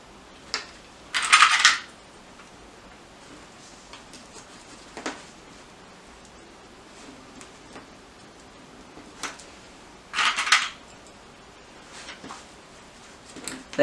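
Sewing clips snap onto bag lining fabric as a few sharp, light clicks at scattered moments, with a pair of brighter snaps standing out against near silence.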